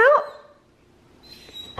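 A dog gives one sharp, loud bark with a short whimpering yip at the start, followed by a quiet pause and then softer whines and a faint second yelp near the end.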